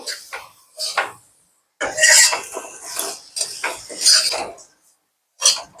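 A spoon stirs fresh homemade milk cream in a pan over a low flame, giving repeated scraping and clinking strokes in short bursts with brief pauses, close and fairly loud, with no talking.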